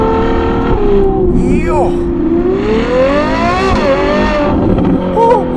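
Novitec Ferrari 812 N-Largo S with a naturally aspirated V12, revving hard and loud nearby, its pitch climbing and falling in sweeping surges, with a voice shouting briefly over the engine.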